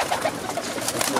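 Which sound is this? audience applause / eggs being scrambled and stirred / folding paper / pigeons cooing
pigeons cooing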